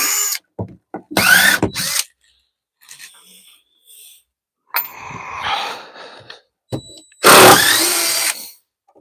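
Screws are backed out of shed wood during floor and door repairs with a power drill: short close bursts of whirring and grinding, separated by pauses, some ending in a rattling whine.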